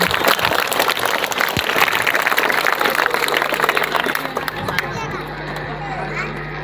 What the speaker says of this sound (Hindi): एक बार जोरदार ताली बजाएं छात्राओं के लिए।